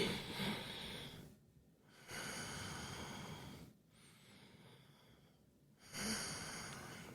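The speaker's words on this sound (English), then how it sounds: "some guy breathing into the mic" A man breathes deeply into a close microphone, three long slow inhales or exhales separated by brief silent pauses, soft and airy with no speech.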